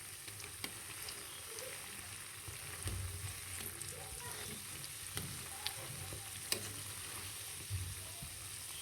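Bondas made from dosa batter fry steadily in hot oil, a soft continuous sizzle with faint crackles and a few sharper pops, low in level and with no voices.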